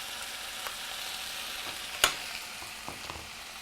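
Cayenne pepper powder and other spices sizzle in hot oil in a frying pan while an Indian dish is cooked, a soft continuous hiss with a sharp click or spatter midway and faint stirring.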